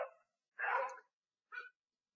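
Dogs barking in the background: three separate barks, quiet and somewhat distant, with silence between them.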